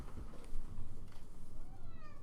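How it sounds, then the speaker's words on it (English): A pet cat meows indoors, a few soft, drawn-out cries close to the microphone over a low rumbling background, with no speech. "Do you guys want to see the cat?"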